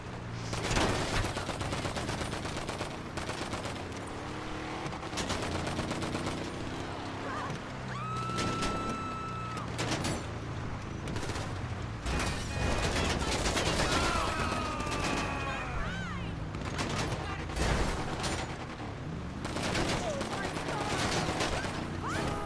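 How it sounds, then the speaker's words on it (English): Bursts of rapid gunfire crackle repeatedly in GTA Online over a rumbling engine-like drone, with game-style shots popping in clusters throughout. "And see how little gunfire we took?"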